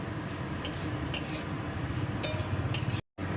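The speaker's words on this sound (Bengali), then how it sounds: "এখন এটাকে মশলার সাথে খুব ভালো মতনভাবে কষিয়ে নেব।" Elephant foot yam is stir-fried with spices in a pan for a yam and shrimp curry, a low steady sizzle broken by five light metallic clinks of a spatula against the pan, with a brief dropout near the end.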